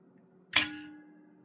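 An airsoft trip mine fires its cap with a single sharp, loud bang that decays quickly in a quiet room, with no talk.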